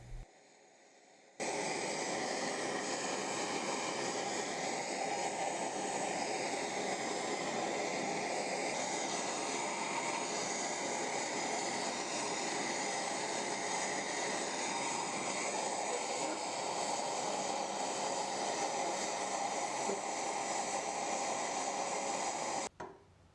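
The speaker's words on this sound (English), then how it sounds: "heat treat the knife using a MAP gas torch and a small forge that I made from a paint can" MAP gas torch roaring steadily into a small paint-can forge while heating a 1084 steel knife, a constant loud hissing blast that starts abruptly and cuts off near the end.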